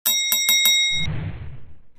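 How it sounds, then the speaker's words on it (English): A bright notification bell sound effect rings four quick evenly spaced dings, then gives way to a soft noisy rustling swoosh that fades out. No voices. "turn on the notification bell so you don't miss out on any of our valuable information or video"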